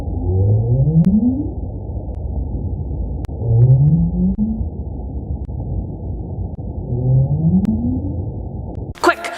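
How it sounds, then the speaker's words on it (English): Low underwater North Atlantic right whale calls rise in pitch like questioning upsweeps, three of them spaced a few seconds apart over a faint hydrophone hiss. "This sound is coming from the North Atlantic right whale"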